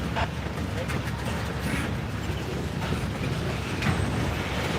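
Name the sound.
Norfolk Southern train 167 with Lehigh Valley heritage unit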